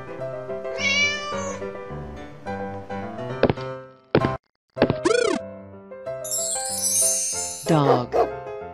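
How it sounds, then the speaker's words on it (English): A cartoon dog barks in short, springy, exaggerated yaps. The barks sit among other playful animated animal noises, boings and musical effects, loud and close. "Dog."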